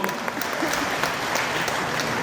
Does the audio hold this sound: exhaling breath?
no